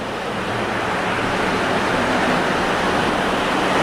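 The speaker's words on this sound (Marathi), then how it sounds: "खतरनाक पाऊस वारा आणि पाऊस जबरदस्त पाऊस" Heavy monsoon rain driven by strong wind, a dense, steady roaring hiss of downpour filling the whole stretch without pause.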